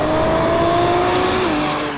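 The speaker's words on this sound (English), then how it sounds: "feels race car-like with its raw mechanical noise and hissing turbos" A Ford GT's mid-mounted 3.5-litre twin-turbo V6 drones loudly from close by, a raw, steady engine note with turbo hiss that shifts pitch slightly near the end.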